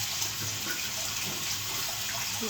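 A watermelon is washed under a running tap, making a steady, loud rush of water that stays constant throughout with no voices.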